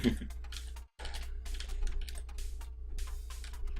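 Rapid, uneven keyboard clacking fills the space, a dense run of close typing strokes over a steady low hum, with a brief pause near the start before the keys resume.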